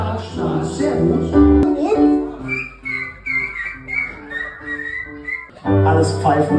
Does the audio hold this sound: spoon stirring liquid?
no